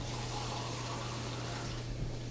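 Water pours steadily from a measuring cup into a cooking pan, a continuous close splashing rush over a low background hum.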